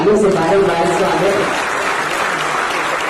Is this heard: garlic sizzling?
no